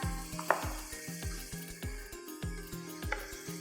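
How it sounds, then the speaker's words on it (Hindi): Beef fries in a pot for degi biryani with a soft, low sizzle, overlaid by quick rhythmic scraping knocks of stirring repeating every third of a second. "ये देखिए ये गोश्त भुन गया है हमारा।"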